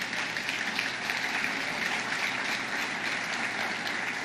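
Sustained applause from a church congregation, an even wash of clapping that holds steady without pause.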